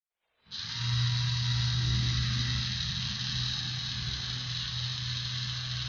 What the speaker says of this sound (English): Then vehicle engine will run. Here vehicle engine is a DC gear motor.